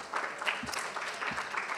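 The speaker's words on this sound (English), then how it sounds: "let's give another round of applause to our engaging panel." Conference audience claps for a panel, a brief, fairly soft patter of scattered hands with a few louder claps near the front.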